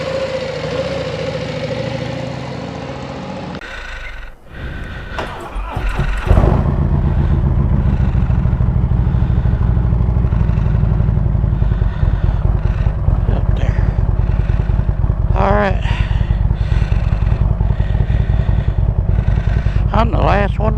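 A motorcycle from a Bikes, Beards and Dragon trip starts and idles loudly nearby, its steady engine rumble continuing under occasional voices as it prepares to ride off.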